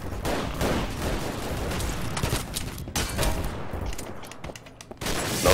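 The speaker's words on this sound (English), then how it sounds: "Don't shoot me, I'm shooting all these bugs." Sustained gunfire in Double Action: Boogaloo, a Half-Life 2 mod, shooting at bugs: dense, loud volleys of rapid shots running almost continuously, with a brief lull before the firing resumes.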